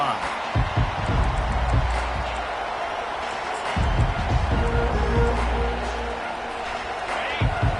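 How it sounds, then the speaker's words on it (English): A college football stadium crowd at Arkansas versus Texas roars in a sustained, loud wash of cheering that swells and dips, with a commentator talking over it. "This crowd bringing an ear-splitting welcome to their visitors"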